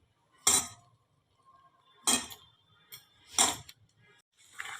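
Bottle gourd leaf fritter batter seasoned with salt, sugar and turmeric is worked in a bowl, giving a few separate, sharp clinking scrapes spaced about a second apart against a quiet background, with no talking.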